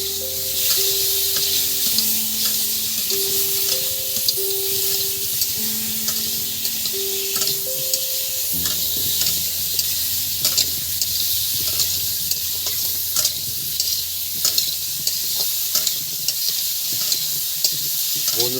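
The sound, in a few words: potatoes sizzling and stirred in pan for chicken curry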